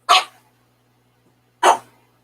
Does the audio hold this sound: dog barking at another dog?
yes